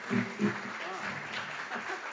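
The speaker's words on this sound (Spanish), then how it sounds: "Fuerte el aplauso, por favor." Faint applause from a theater audience at a tango concert, soft scattered clapping mixed with voices, heard at a low level.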